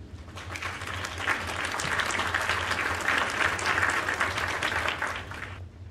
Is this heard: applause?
yes